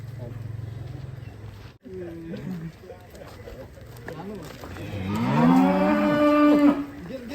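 Belgian Red cattle on a farm give a long, drawn-out moo close by after some shorter lowing sounds. Voices and farmyard noises are heard around the calls.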